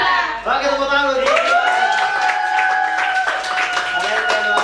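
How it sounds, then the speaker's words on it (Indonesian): A class of tenth-grade students claps in a classroom, with sharp scattered claps under loud cheering and sustained crowd voices close by. "Oke, tepuk tangan dulu."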